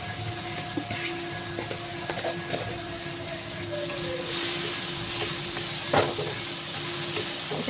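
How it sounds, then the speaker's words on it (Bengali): Spices with ginger-cumin paste, chili paste and tomato sautéing in a pan, giving a steady close sizzle and hiss with occasional clinks and scraping of a utensil throughout. "এটাকে আমি এবার ভালো করে কষাবো"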